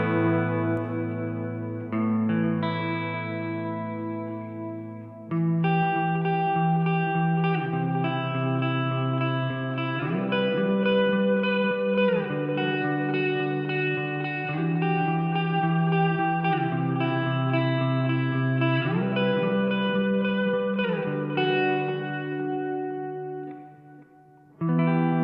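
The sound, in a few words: DemonFX workstation delay and reverb effects together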